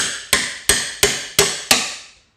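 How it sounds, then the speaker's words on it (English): A hammer strikes a SeamBuster chisel wedged into a spot-welded body seam on a rusty 2004 Chevy Suburban rocker panel, five sharp metallic blows at a steady, evenly spaced rhythm, each ringing briefly before the next. "using a hammer, you can get in here and after you drill the spot welds, bust the seams"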